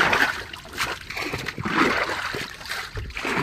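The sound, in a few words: bailing water out of a fishing boat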